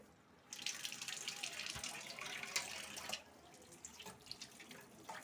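Water from a kitchen tap rushes steadily into a sink for a few seconds, then drops to a lighter trickle and splash, close and moderately loud.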